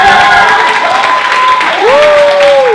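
At a student association event, an audience claps in a steady wash of applause while a voice exclaims over it, with a rising, swooping vocal cry near the end.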